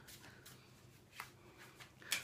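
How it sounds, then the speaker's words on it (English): A deck of tarot cards being shuffled by hand at close range: soft, quiet riffling and papery swishes in short bursts, ending in a brighter flick. "I'll just shuffle and pull a card for you."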